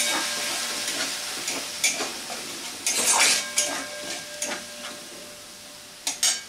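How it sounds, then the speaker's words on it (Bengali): Tomato paste is stirred into an aloo soyabean curry in a hot pan, giving a steady sizzle and hiss with a spatula scraping and clinking against the metal at close range. "এবার সেটা দিয়ে দিচ্ছি। ভালো করে মিশিয়ে নিলাম।"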